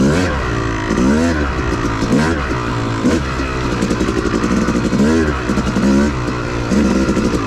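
A Yamaha YZ250 two-stroke dirt bike ridden hard through whooped trails at Manchester OHV, the engine revving up and down repeatedly in steady cycles, loud and close with clattering over the bumps.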